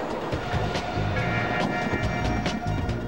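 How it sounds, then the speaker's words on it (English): A high-speed passenger train runs along railroad tracks with a continuous heavy rumble and a rhythmic clatter of wheels passing over rail joints. "A typical high-speed passenger train has a dozen carriages."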